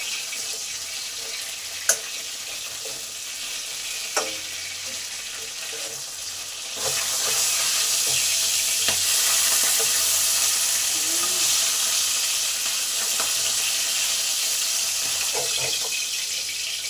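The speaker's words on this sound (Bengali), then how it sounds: "তেলটা গরম হলে এবার ইলিশ মাছের মাথাগুলো ভেজে নেব।" Hilsa fish heads fry in hot oil with a steady, close broadband sizzle that swells louder partway through and holds, marked by a few sharp pops early on.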